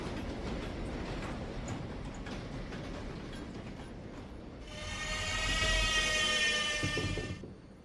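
An NYC subway N train running in the Minecraft video game: a steady rumbling clatter of rail cars, rising into a loud high-pitched brake squeal before easing off, with no talking.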